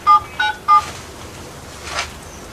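A phone number being dialed on a keypad, three short clear beeping tones in quick succession, followed by faint background noise and no talking.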